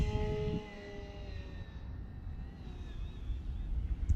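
A P-51 model airplane's electric motor whines in a high tone on launch, then fades into a steady rushing drone with wind buffeting the microphone as the plane flies away.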